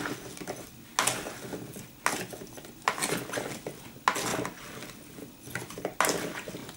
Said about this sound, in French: remuer le mieux que je peux